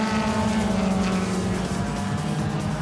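Race cars lapping the Kyalami circuit, a steady loud engine drone held at high revs along the back straight, with no gaps or voices.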